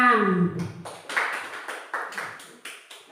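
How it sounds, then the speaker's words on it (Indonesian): A training session audience breaks into applause after a presenter finishes, a burst of overlapping claps fading into scattered rhythmic hand claps over about three seconds. "kasih tepuk tangan"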